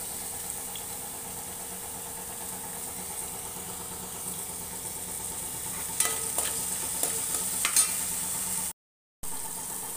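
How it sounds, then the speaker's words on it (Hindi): Onion and tomato fry in a pan for a homemade catfish curry, a constant soft sizzle with a few stirring clicks and scrapes near the end, no voices. "पहले डालेंगे प्याज, इसको थोड़ा फ्राई करेंगे।"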